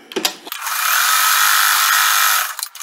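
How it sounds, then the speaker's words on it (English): A sewing machine stitches quilt sashing in one continuous close whir lasting about two seconds, preceded and followed by brief handling clicks. "And now I'm just going to sew down."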